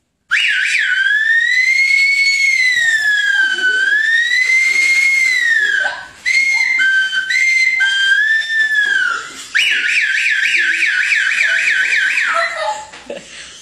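A high, whistling voice imitates an ambulance siren, with long wavering up-and-down wails and a faster warbling section, loud and close.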